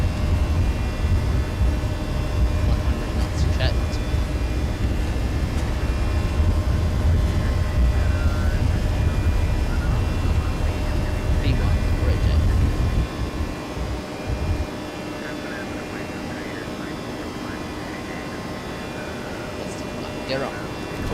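Jet engines of a Toliss A319 at takeoff thrust in X-Plane 12, a loud steady roar with low rumble and tonal whine that eases slightly partway through, with speech over it.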